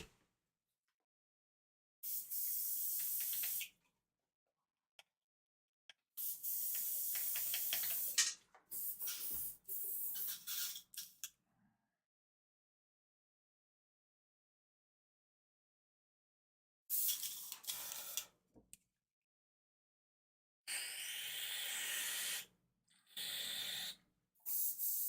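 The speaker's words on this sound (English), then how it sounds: "Let's clean out the airbrush." Airbrush being cleaned out after miniature painting, giving several sharp bursts of spraying hiss, each lasting one to two seconds, separated by silent pauses, close and fairly quiet, with no voices.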